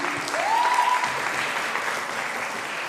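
An audience at a speech event breaks into steady, even applause, a full crowd wash of clapping with a brief whistle near the start that holds level throughout.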